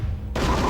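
A gunshot in the video game Turok: Rage Wars, a sudden loud blast that cuts in and sustains as a dense burst of noise over low rumbling game audio.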